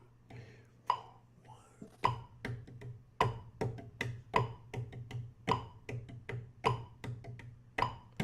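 A ride cymbal is played in quarter-note triplets, with sharp, evenly spaced strokes in a steady rhythm over a low background hum. The strokes are close but fairly quiet.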